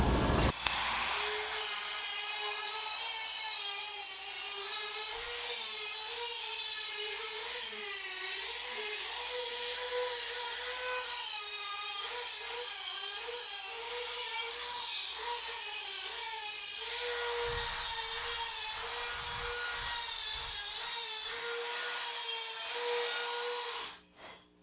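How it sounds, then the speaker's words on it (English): A Dremel rotary tool whines at a steady high pitch while grinding and shaping a wooden spatula, its continuous buzzing rasp wavering slightly with pressure for over twenty seconds, close and loud, before cutting off. "Have Dremel, will use."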